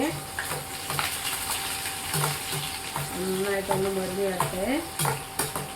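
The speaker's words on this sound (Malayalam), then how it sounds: "അതിലേക്ക് വെളുത്തുള്ളി, ഇഞ്ചി, പച്ചമുളക് ആഡ് ചെയ്ത് കൊടുക്കാം. നന്നായിട്ടൊന്ന് മുരിഞ്ഞ് വരട്ടെ." Garlic, ginger and green chili fry with popped mustard seeds in a pan for Kerala-style lemon pickle, crackling and sizzling up close as a spoon stirs and scrapes in repeated strokes.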